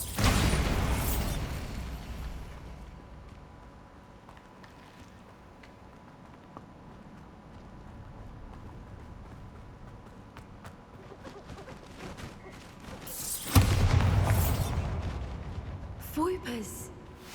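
Hogwarts Legacy's Bombarda explosion spell bursts loudly at the start, then quiet ambience hangs on. A second powerful blast erupts near the end, followed by scattered debris clatter.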